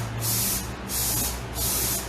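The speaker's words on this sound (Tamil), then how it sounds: "அண்ட் எவ்வளோ நான் ஸ்ப்ரே பண்ணுறேன்னு பாருங்க" Hair shine spray released from an aerosol can in three short, close, hissing bursts separated by brief pauses, with a faint low hum underneath.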